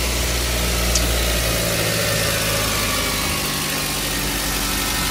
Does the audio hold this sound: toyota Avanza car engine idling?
yes